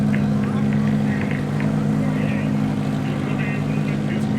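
Front-wheel-drive race cars, a Honda CRX and an Opel, running at Midvaal Raceway: a steady, loud engine drone at high revs held throughout, with a commentator talking over it.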